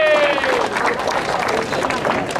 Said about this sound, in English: So a big round of applause for Gibbs,